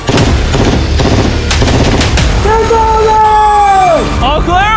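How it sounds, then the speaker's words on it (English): Rapid automatic gunfire rattles loudly and continuously as bullets are fired at a train, with shouting voices and a rising wail mixed in near the end. "These are the last bullets."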